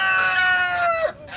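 A rooster on a farm gives one loud, close crow that slides down in pitch and cuts off sharply, on a cold windy day.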